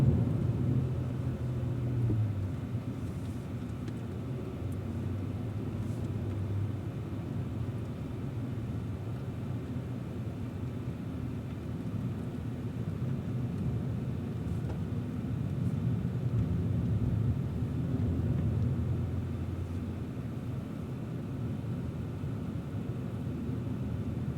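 A Cadillac V-series car lapping the Spring Mountain track gives a low, steady engine and road rumble heard from inside the cabin, fairly quiet and continuous with no talk.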